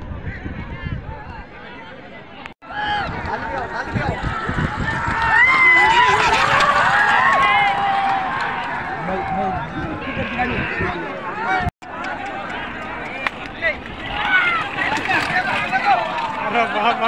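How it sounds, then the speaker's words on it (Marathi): A large crowd packs the waterside at a bullock cart race at Lasur Station, Maharashtra. Their dense, loud babble and commotion runs steadily throughout, with two brief dropouts. "खूप जास्त गर्दी आहे"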